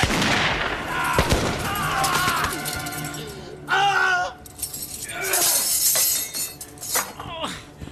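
Gunfire erupts in a period naval battle scene, with sharp loud shots, crashing and shattering impacts spread through the clip under shouting voices and a busy, dense background.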